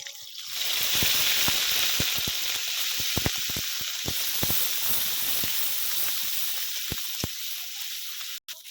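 Onion paste hits hot oil seasoned with whole cinnamon, cardamom and cloves, bursting into a loud continuous sizzle with scattered sharp pops and spatters that carries on steadily until an abrupt cut near the end.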